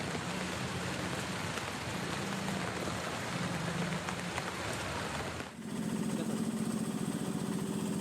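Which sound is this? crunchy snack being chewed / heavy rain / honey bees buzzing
heavy rain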